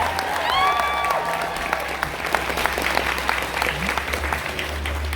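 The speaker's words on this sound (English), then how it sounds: "Give them a huge round of applause for this beautiful work." At the Fan Expo Masters of Cosplay Grand Prix, an audience applauds a cosplay entry with full, steady clapping, a few whoops rising at the start and the clapping thinning slightly toward the end.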